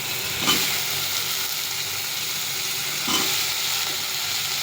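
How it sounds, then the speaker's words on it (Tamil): Onion, tomato and garlic sauté in a pan with a continuous, even sizzle, while two brief stirring scrapes stand out over the hiss; no voices. "நல்லா வெங்காயம், தக்காளி, பூண்டு எல்லாம் நல்லா வதங்கிட்டு இதில் நம்ம வந்து கத்திரிக்காய் போட்டுக்கலாம்"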